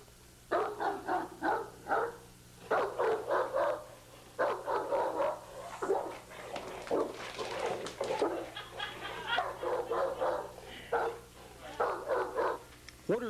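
A Fila Brasileiro dog barks close by in a long run of loud, rapid bursts with brief pauses between them, over a steady low background hum.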